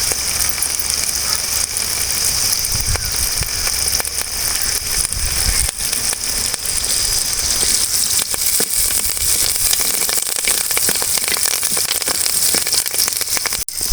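Curry leaves and onions fry in oil with a loud, dense, continuous sizzle and crackle, overlaid by rapid clicking and scraping from stirring, steady from start to finish with no talk.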